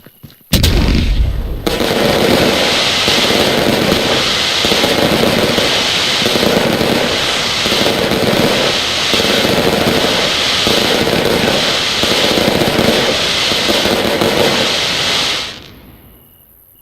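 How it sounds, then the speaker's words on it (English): A large Doom Boom firework going off in the Fireworks Mania game, a dense, continuous barrage of booming and crackling bursts with a pulsing rhythm, very loud and sustained for about fifteen seconds before cutting off. "Now that is a stadium-worthy firework."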